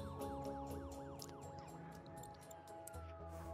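Ambulance sirens wail in SimCity 5, several overlapping rising-and-falling tones sweeping repeatedly across a busy city scene, fairly faint and distant-sounding amid background game noise.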